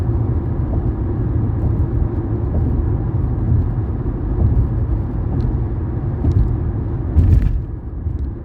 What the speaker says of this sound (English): There goes one of those limo buses on the other side.